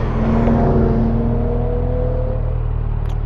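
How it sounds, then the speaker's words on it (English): A 2025 Kawasaki Z900 motorcycle on its stock exhaust, recorded while riding at sunrise: a loud, steady engine drone with a smooth rising-then-easing tone, close to the microphone and alone without speech. "I'm not really too upset about the stock exhaust. It doesn't sound bad."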